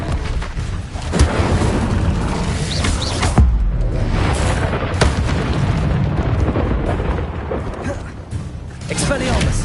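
A Bombarda blast spell goes off in Hogwarts Legacy, with deep booming explosions and rumbling bursts in a busy, loud spell battle. Heavy impacts land around the third second and repeat, mixed with game noise and speech.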